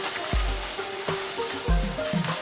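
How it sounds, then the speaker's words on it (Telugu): Crushed bitter gourd fries in a turmeric tempering in a pan with a soft continuous sizzle. Several dull knocks and scrapes from stirring the pan stand out, and the whole sound stays fairly quiet and close. "పోపులో వేసుకున్నాక బాగా వేయించాలి."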